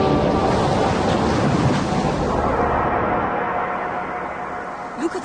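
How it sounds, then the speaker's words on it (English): Sea waves breaking with spray in a radio drama, a loud surging wash that slowly recedes and fades toward the end. "Look at the waves, Mina."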